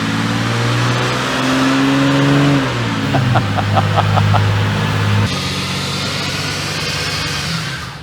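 A car engine revs hard and steadily during a burnout that powers a giant smoke-ring vortex cannon, loud and close throughout, with the pitch shifting midway.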